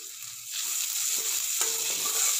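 Onion, green chillies and grated ginger fry in a pan with a steady broadband sizzle, stirred now and then, close and fairly loud throughout without any talk.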